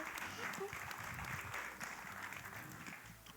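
Applause from onlookers at a chefs' cooking battle, moderately faint clapping that tapers off over a few seconds, with voices talking over it.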